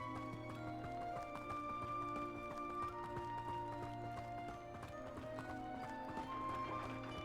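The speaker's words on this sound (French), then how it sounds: "On voit les chevaux." Horses clip-clopping at a steady trot in the Hogwarts Legacy video game, a continuous rhythmic patter of hooves over ambient game music and background sounds, with no speech.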